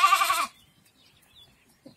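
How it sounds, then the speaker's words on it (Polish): A small lamb in a farm flock lets out a single short, loud, quavering bleat, and near-silence follows with only faint rustles. "Taki mały baranek, jak krzyczy."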